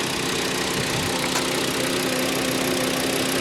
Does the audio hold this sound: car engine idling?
yes